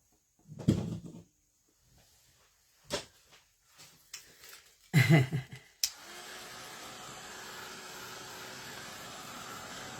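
A heat tool drying spray on a scrapbook page: a few short bumps and clatters, then a steady blowing hiss that starts abruptly and holds, moderately quiet, with no talk.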